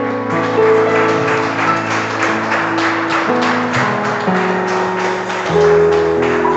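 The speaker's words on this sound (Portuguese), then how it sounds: "Vamos aplaudir ele bem forte" A church congregation applauds at a Sunday service, a steady, fairly loud wash of clapping that runs the whole time over sustained keyboard music.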